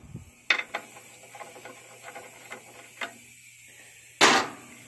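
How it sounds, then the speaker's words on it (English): Ratchet fitted with a 13 mm socket working on a tire and rim during removal; a few close metallic clicks and taps spaced out over a quiet background, ending in a louder burst of hissing noise. "in my case here, you need a 13 millimeter socket"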